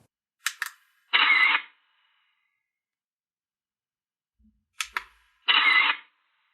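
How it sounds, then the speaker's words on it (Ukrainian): A phone camera shutter triggered remotely through a portable Bluetooth speaker's track buttons: two clicks of the button, each followed by a short synthetic shutter burst, the pair repeated twice in otherwise quiet surroundings. "Тепер, натискаючи будь-яку з кнопок перемикання треків, буде робитися фото."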